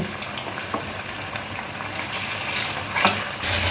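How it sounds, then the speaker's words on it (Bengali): Chicken pieces fry in hot oil in a pan for Chinese-style chicken Manchurian, a dense, steady bubbling sizzle with a few sharper pops and spits near the end. "চিকেনগুলো দেখুন গোল্ডেন কালার করে ভেজে নিয়েছি"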